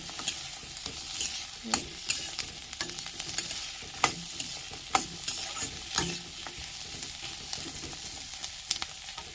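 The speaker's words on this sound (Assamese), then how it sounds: "আৰু এয়া মই কাটি লোৱা আদাখিনি দি দিছোঁ এনেকৈ যিখিনি জলকীয়া দুটা দি দিছোঁ এইখিনি এনেকৈ অলপ সময় ভাজিব লাগিব" Chopped ginger, garlic and two green chilies fry in a pan with a soft ongoing sizzle, broken by sharp scraping and tapping of a spatula stirring every second or so, close and fairly quiet, with no talking.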